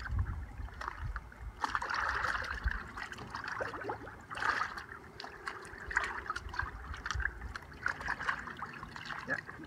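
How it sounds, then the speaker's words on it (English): Bear hides are stirred while soaking in a liquid acid-neutralising bath, giving irregular sloshing and splashing with soft trickles, fairly quiet and close. "I'm just giving it a quick stir."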